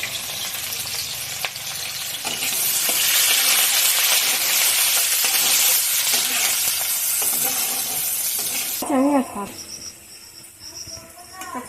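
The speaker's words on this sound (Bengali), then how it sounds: "পেঁয়াজ ভাজা হয়ে গেছে" Oil sizzles and crackles loudly in a pan as onions fry, with stirring scrapes; the sizzle drops away near the end and a voice briefly speaks.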